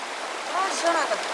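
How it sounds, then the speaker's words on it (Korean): An ice-cold mountain stream flows through a Jirisan valley near Cheonghak-dong, giving a steady, close rush of water for a brief moment, with faint tonal traces running over it. "한여름에도 얼음장 같은 물이 흐르는 계곡."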